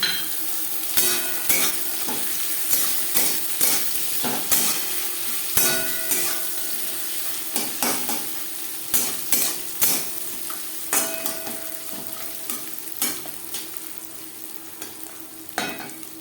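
Onions with green chilies frying in a pan, with a constant close sizzle broken by frequent sharp clinks and scrapes of a utensil against the metal. The stirring comes in quick irregular bursts and no one speaks.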